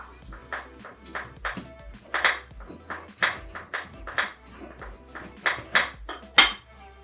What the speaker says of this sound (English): use your box grater or whatever you have, and just grate it